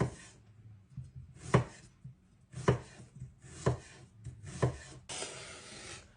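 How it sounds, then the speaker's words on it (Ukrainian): A knife slices onion into strips on a cutting board, giving close, crisp chopping strokes at a steady pace of about one per second, with softer scraping between them. "Зараз нарізаємо цибульку коротше, на такі полосочки."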